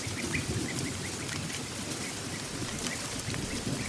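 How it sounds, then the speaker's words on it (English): Rain falls in a jungle, a steady dense patter and hiss with scattered sharper drops, moderately loud and unbroken, with no voices. "growls in the distance as rain begins to fall"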